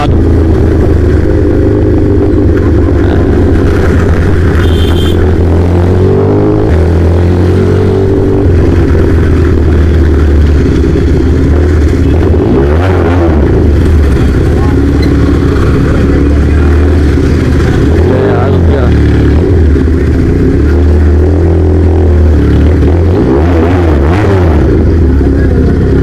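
Motorcycle riding at speed, its engine droning loudly and continuously with rising and falling revs, mixed with road and wind noise and a bit of passing traffic.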